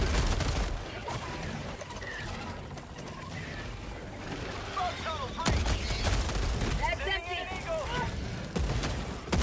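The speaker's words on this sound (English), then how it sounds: "careful, I threw a bunch of grenades at you" Several grenades explode in the video game Helldivers 2, giving booming blasts over continuous battle noise and gunfire, with voices talking now and then among the explosions.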